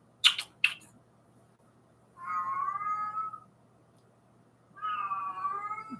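A female cat in heat gives two drawn-out, wavering meows a couple of seconds apart, close and fairly loud, after a couple of sharp clicks at the start, with no talking.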